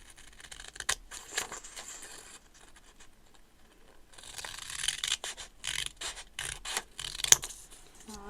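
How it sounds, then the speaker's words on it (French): Scissors snip off excess paper from a small scrapbook art-journal collage, giving faint, close, irregular cutting and rustling sounds with a few sharper clicks. "On va couper donc le surplus."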